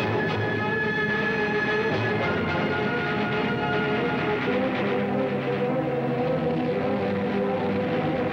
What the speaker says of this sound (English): only a few trains a day venture west of Paris.